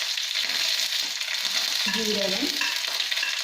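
Cumin, mustard seeds and dried red chillies sizzling in hot coconut oil, a dense continuous crackling fizz with faint metallic stirring clinks; a voice briefly speaks over the spices as they cook.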